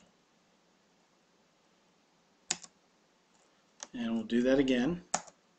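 A few sparse keystrokes tap on a computer keyboard while a root password is entered during database setup, with isolated clicks before and after a short burst of speech.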